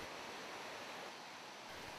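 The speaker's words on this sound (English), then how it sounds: "delighted by views and sounds of the Merced River as it cascades downward" Cascading water of the Merced River in Yosemite Valley, heard from a short, steep paved hiking trail: a steady, broadband rushing roar with no pauses and no voices.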